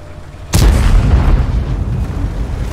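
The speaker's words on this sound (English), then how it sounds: "So the artillery is able to get some juicy hits on him." In the tank game World of Tanks, an artillery shell hits with a sudden loud boom that rolls into a rumbling, crackling blast and a sustained low roar.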